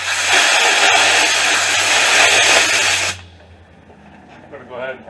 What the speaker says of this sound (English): I'm going to go ahead and put air into my smoke machine.